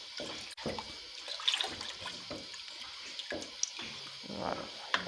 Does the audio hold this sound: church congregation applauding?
no